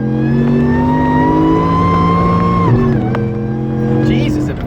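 A VMP supercharged Ford F-150 pickup in 2-wheel drive accelerates hard at full throttle from about 45 mph, the engine and supercharger whine rising loud and close, a brief shift dip partway, then climbing again.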